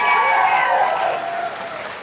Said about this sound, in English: You guys give this young man a big round of applause again.